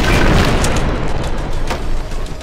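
A bomb goes off in the action video game Trepang2, a loud, dense booming blast that fills the whole stretch with rumbling, crackling debris and no talking.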